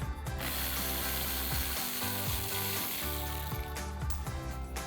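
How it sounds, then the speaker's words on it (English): A hand ratchet with a 10mm socket removes bolts from the air dam under a Toyota Tundra, making rapid clicking pawl ratchets in repeated bursts close by, with a brief pause in the middle. "we need to remove 2 bolts here in the center of the air dam on the bottom using our 10mm socket"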